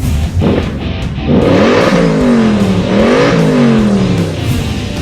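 An Audi RS5 or RS7 engine roars and revs hard as it takes off, pitch climbing through gear changes, loud and close with a brief tire squeal.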